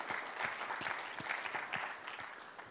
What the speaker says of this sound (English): Please give them a round of applause for supporting this commercially.